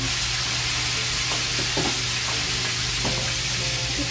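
Food frying in a pan with a dense, steady sizzle close up, with occasional stirring or scraping touches, heard alone throughout.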